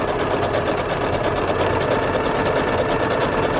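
A Singer 7466 sewing machine runs an overcast stitch along a fabric edge, giving a steady, fast mechanical whir with dense rhythmic needle clatter, close and loud throughout, with no voices.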